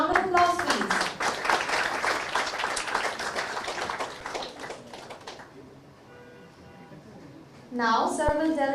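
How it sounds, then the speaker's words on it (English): Audience applause at a Bangladesh-Canada 50-year friendship celebration, a dense burst of clapping for about five seconds that fades into quiet, with a voice speaking at the end. "A round of applause, please"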